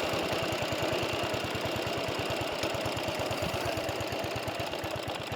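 A vintage cylinder lawn mower engine idles very low with a slow, even chuffing beat, a rapid regular thump that carries on steadily at close range with no talking.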